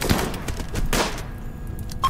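Rapid bursts of gunfire in the RimWorld video game during a raid firefight, a cluster of sharp shots up front, another burst midway, then a quieter stretch with a single late crack.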